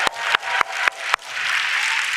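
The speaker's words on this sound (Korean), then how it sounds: "더 크게 박수 한번 쳐주시죠" Inside a church, a congregation applauds in a continuous rush of clapping, with a few sharp, distinct claps standing out early on before it settles into an even roar.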